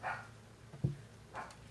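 A dog named Casper barks outside, a single muffled, distant bark in the middle of an otherwise quiet stretch with faint background noise.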